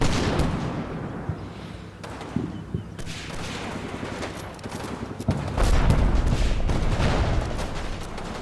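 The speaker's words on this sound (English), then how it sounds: "I would say a couple of mortars." Mortar rounds landing in a combat video game, a dense run of booming impacts and crackling gunfire-like bursts that swell into a heavy, sustained rumble near the end.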